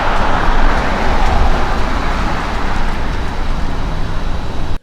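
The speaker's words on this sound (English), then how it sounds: "And one more car going by." A car passes on a nearby road, a steady broadband roadway rumble holding for several seconds with no distinct approach or fade, traffic noise filling the whole stretch.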